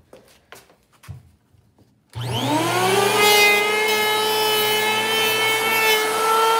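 A TOPSHAK portable handheld electric wood planer bites into rough sawn oak. After a few faint knocks, the motor starts with a rising whine and settles into a loud, steady, close cutting roar that continues to the end.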